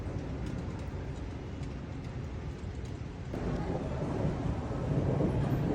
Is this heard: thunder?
yes